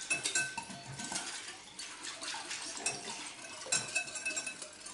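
Yeast is stirred into milk in a bowl, giving a continuous soft clinking and scraping of utensil against the bowl with faint liquid swishing, quiet and close.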